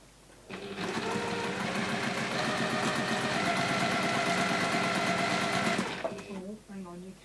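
A sewing machine runs in one steady, fast, continuous burst for about five seconds as fabric strips are chain pieced in a workshop, loud and close, then stops; a voice speaks briefly afterward.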